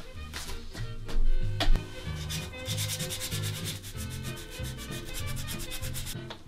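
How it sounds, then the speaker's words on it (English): Close, rhythmic back-and-forth sanding on an antique wooden captain's chair, stripping lacquer and stain in steady repeated rasping strokes that continue throughout. "now that I've sanded down through the veneer, not the veneer, the lacquer, the surface, the stain"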